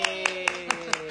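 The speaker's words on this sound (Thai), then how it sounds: "ขอเสียงปรบมือต้อนรับพิมพ์นิพายหน่อยค่ะ" Five evenly spaced sharp claps ring out over a steady tonal hum on a Thai live stream, welcoming a guest, while a voice talks over them.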